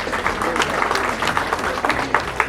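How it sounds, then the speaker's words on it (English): Audience at a speech applauding, a short burst of dense, moderately loud clapping from a crowd lasting a couple of seconds. "on doit les applaudir."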